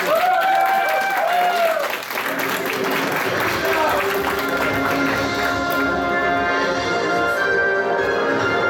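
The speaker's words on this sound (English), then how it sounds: "give a round of applause, guys, let's do this" Applause from a convention crowd during a live game show, a steady dense clatter of clapping that carries on throughout, with voices and crowd noise mixed in.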